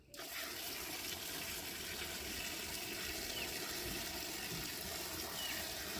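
Steady rush of water from a garden hose pouring into a chicken waterer for meat chicks, continuous and fairly loud throughout with no pauses.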